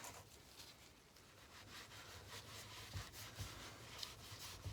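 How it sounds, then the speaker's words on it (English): Wire brush scrubbing a stuck bearing, a steady rough scratching that runs through the whole stretch with small bursts of harder strokes, fairly quiet and close, with no voices. "I'm going to go ahead and do a bunch of scrubbing with my wire brush"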